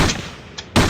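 Gunfire from the video game Trespasser: a few sharp broadband shots, with a loud one closing the short stretch and a softer one before it, and no talking over them.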